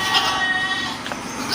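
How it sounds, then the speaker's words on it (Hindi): A young goat with pink hooves and a pink nose bleats at a Karachi livestock market before Eid, a short, close, wavering cry over a steady murmur of crowd noise. "जवान बकरी है माशाल्लाह"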